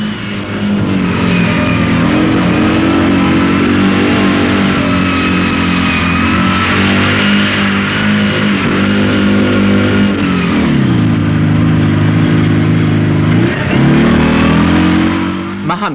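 Haflinger off-road vehicle with a sub-1000cc engine bouncing across moorland in a rally contest, its loud mid-pitched engine droning and revving continuously, with pitch dropping and rising around shifts, a voice talking over it.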